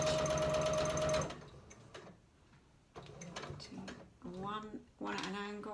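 A domestic sewing machine runs in short bursts while stitching a pincushion, the balance wheel turned by hand between runs, with mechanical whirring and clicks up close and a voice speaking over parts of it.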